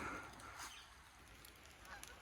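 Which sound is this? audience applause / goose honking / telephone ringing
goose honking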